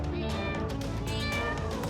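A cat meows in a dense, continuous layered cry over about two seconds, loud and close, with harmonic wails and no talk over it, amid a playful scene about hiding cats in a secret room.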